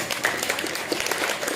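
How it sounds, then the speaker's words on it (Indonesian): Applause from the back of the hall at a graduation ceremony for Quran memorizers at an Islamic boarding school, a dense, even patter of clapping that stays fairly steady throughout. "Tepuk tangan dari belakang langsung."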